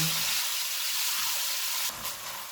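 Beef mince with ginger-garlic paste frying over a medium flame, giving a steady broadband sizzle that runs throughout, with a brief clatter or shift in the sound near the end.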